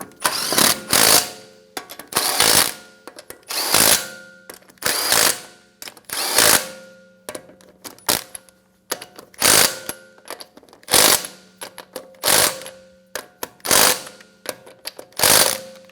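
Lug nuts on a 2013-2017 Honda Accord front wheel being snugged down, heard as repeated short bursts of clicking ratchet and mechanical whirring, about a dozen close, loud pulses separated by brief pauses.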